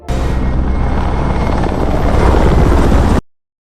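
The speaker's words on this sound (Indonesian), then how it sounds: "helikopter meraung melintas di atas kepala, bunyinya yang memekakkan menggetarkan udara" A loud helicopter roars steadily close overhead, its thudding rotor and engine filling the air for a few seconds before cutting off abruptly.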